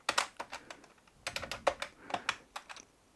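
Keys being typed on the keyboard of a homemade Hello Kitty–themed Sanrio laptop built around a Galaxy Z Fold 3 with a broken inner screen; firm, stiff keys give close, crisp clicks in quick, uneven bursts.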